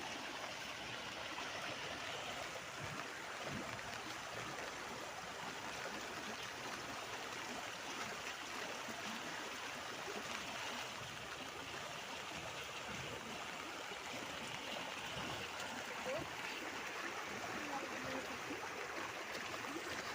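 Steady rushing and gurgling of water flowing in a village stream, continuous and fairly close, with no voices throughout.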